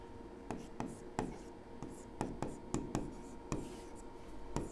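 Pen or marker scratching on paper while a math problem on surface areas is worked out, with a series of short, close strokes and taps at an irregular rhythm over quiet room tone.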